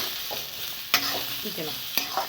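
Thinly cut beetroot sautéing in a pan, a continuous close sizzle with a few sharp stirring scrapes on top, no talking.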